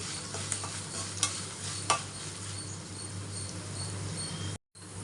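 Spice tempering (popu) with curry leaves fries in a pan for curry leaf rice, a steady close sizzle with a few light stirring clicks and no talk.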